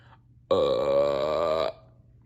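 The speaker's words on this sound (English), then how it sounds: "SpongeBob and Patrick sat back in their chairs and let out two humongous burps" An audiobook sound effect of a big cartoonish burp, one long, loud and close belch that lasts over a second against a quiet background.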